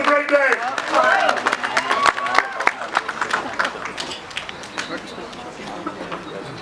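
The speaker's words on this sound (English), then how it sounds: "Give yourself a round of applause." Elvis fans at Graceland applaud during a birthday celebration, a crowd's clapping mixed with cheers and voices that gradually fades to a lighter patter.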